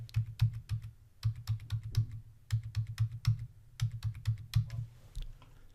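Rapid typing on a computer keyboard while entering card information, steady bursts of clicky keystrokes with brief pauses between groups, close and clear with no talking.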